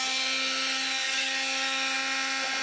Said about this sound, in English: I'm going to be using a multi-tool